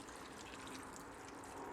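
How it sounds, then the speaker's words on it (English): Beef stock being poured over stew ingredients in a Morphy Richards Flavour Savour slow cooker, a steady, close, continuous liquid gush that runs unbroken with no talking. "So just pour in that beef stock and just pour it over all the ingredients"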